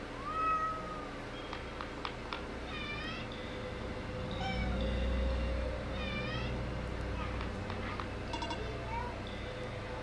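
A cat in the video game Oneshot meowing several times in short rising and falling calls over a low, steady background drone, with a faint rumble partway through.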